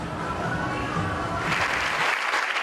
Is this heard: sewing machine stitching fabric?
no